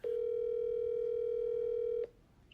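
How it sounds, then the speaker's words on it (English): A telephone ringing tone, a single steady electronic tone holding for about two seconds before cutting off cleanly, loud and alone with a faint hiss behind it. "But Waters did not show up, leading to this phone call from State Police Detective Todd Peterson."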